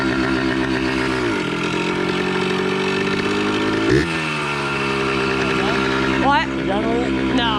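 A 1974 Yamaha MX100 motorcycle engine revs loud and close, holding a steady buzzing pitch that drops and climbs again as the throttle changes, running continuously throughout.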